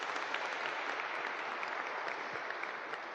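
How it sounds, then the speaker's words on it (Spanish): Audience applause honoring Padre Daniel at a first-aid information session in the Basílica Nuestra Señora del Socorro, a steady, dense clapping from a crowd that holds even for the whole stretch. "me tomo pues el atrevimiento de solicitar un aplauso para el Padre Daniel."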